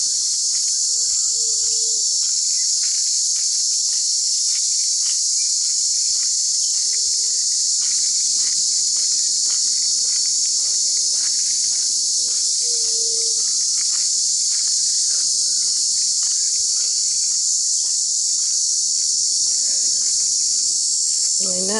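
Dense, steady chorus of insects shrilling high and continuous in the jungle of Isla del Rey, with faint scattered chirps and rustles beneath, like a humid jungle at dusk.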